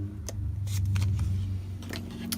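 Small scissors cut out paper pieces for a journal in a few crisp, separate snips over a low background hum, close by and with no talking.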